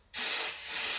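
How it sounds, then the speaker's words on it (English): Glue activator sprayed from an aerosol onto wood glue, one short loud hiss bursting in abruptly and holding close for about a second. "spray the activator"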